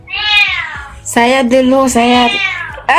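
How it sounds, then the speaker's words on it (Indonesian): A cat meows several times in close succession, loud and near, with drawn-out, pitch-bending cries separated by short pauses. "Janganlah kau miau-miau di sana."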